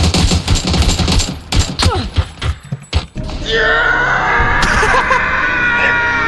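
Dense bursts of automatic gunfire from the video game PUBG rattle close and loud, then give way to a steady mechanical drone with faint distant shots, while players shout over the action.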